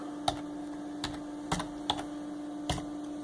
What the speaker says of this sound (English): I'm just going to type in the port number